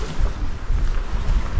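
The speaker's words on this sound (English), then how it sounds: "I'm hearing a waterfall" Steady broadband rushing fills the air, a continuous roar from a waterfall hidden in the bush near a lake in Algonquin, constant and moderately loud with no voices.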